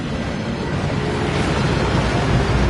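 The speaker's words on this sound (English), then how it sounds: "That waterfall washes away all enchantments." Steady rushing roar of a waterfall in the Hogwarts Legacy video game, a dense, continuous wash of falling water filling the scene at even loudness, with no voices.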